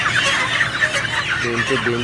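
Chickens cluck and squawk constantly while forty birds are weighed for slaughter, a dense close chorus of calls with a voice speaking beneath it.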